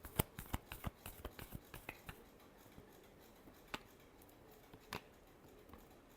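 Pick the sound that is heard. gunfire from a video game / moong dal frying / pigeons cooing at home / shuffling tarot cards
shuffling tarot cards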